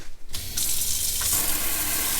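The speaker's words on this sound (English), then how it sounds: "And we have running water." Water from a van conversion's sink faucet with a flexible head starts after a brief quiet moment and runs steadily, a close, bright, continuous splash into the basin that holds for about two seconds.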